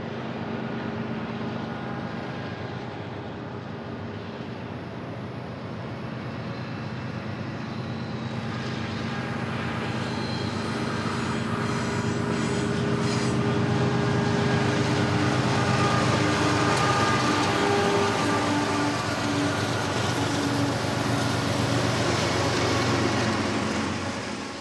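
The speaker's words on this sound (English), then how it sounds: "we caught a southbound BNSF with a rather impressive string of engines" A southbound BNSF freight train with a long string of locomotives near Caliente in the Tehachapi area, a sustained loud rumble and engine drone that builds gradually toward the middle and stays strong to the end.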